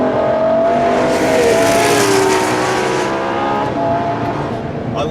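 A Ferrari LaFerrari, a 950+ bhp hybrid supercar, drives on a track with a loud, sustained engine roar and a rising, shifting pitch from start to finish. Light wind and tyre noise sit underneath.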